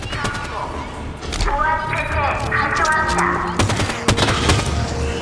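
Gunfire in Halo 5: Guardians plays as repeated bursts and sharp shots through a busy battle mix, with tonal weapon or effects sounds and voices talking over it.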